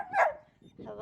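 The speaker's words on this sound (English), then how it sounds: "This is our neighbor puppy." A neighbor's puppy barking, one short sharp yip close by followed by a softer whine, with people nearby greeting it.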